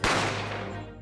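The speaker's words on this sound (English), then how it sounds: "I didn't have time to think about where the sound of the gunshot had come from" A gunshot from the Great Ace Attorney video game: one loud sharp bang that rings out with a long, slowly fading tail and no talking.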